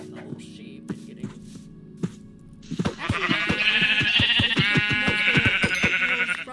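Minecraft sheep bleat several times in a row, the cries loud and close over soft background music, starting after a few scattered quiet thuds.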